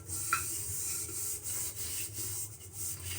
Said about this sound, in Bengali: হাঁড়ি কড়াইতে আগে একটু এই যে উনুন থেকে ছাইটা মাখিয়ে নিই